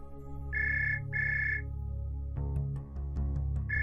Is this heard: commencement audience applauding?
no